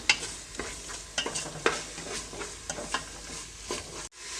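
Tomatoes frying in a pan until soft for paneer biryani, with a soft continuous sizzle broken by repeated spatula stirs and scrapes at an irregular pace, ending in a brief cut to silence.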